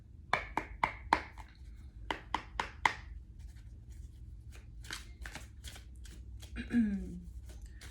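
Tarot cards are shuffled during a reading: a rapid series of crisp riffling snaps, then quieter scattered card flicks, with a brief voice near the end.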